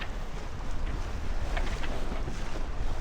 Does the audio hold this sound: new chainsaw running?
no